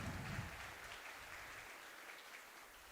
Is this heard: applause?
yes